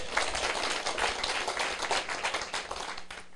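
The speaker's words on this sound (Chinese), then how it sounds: "各位，咱来甲尤先生拍手啦" An audience at a lecture session of the Taiwan Civil Government's legal autonomy academy applauds Mr. You, heard as a sustained burst of many hands clapping together that fades slightly toward the end, with no talk.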